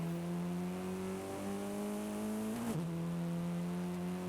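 A racing car in Forza Horizon 5 holds a steady, loud engine tone, then the pitch drops sharply at a gear change and settles into a new sustained drone, with faint tire squeal underneath.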